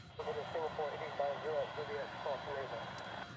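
A Singapore Airlines A380 departs Honolulu airport with a steady, moderately faint jet-engine whine and roar, while someone talks nearby.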